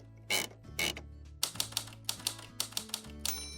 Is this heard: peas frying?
no